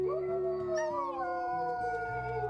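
Several wolves howl together in the WolfQuest video game, long overlapping tonal wails that rise and slide downward, loud and close with no talking.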